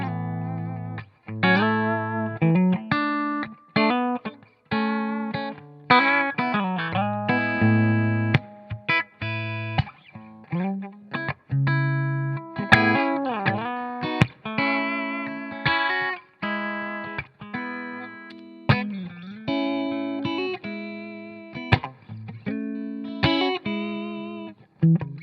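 Electric guitar played through a Blackstar St. James amp with reverb, distorted single notes and chords ringing out with a reverberant tail, no talking.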